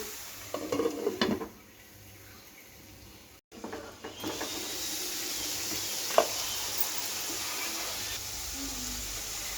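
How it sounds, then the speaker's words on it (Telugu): A spoon stirs ridge gourd curry in a pan, with scraping and clinks of utensil against metal, then a steady soft sizzle as the pan simmers, heard close up. "ఇలా మంచిగా కలుపుకొని క్యాప్ పెట్టేద్దాం"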